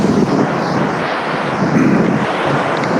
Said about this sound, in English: I hope it's not too windy.